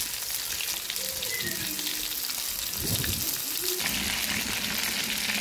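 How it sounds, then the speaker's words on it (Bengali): Nola fish, coated in turmeric, salt and chili powder, sizzling in a pan after being turned over, a continuous close hiss with a few clattering touches midway and no talk. "মাছটা উল্টিয়ে দিলাম।"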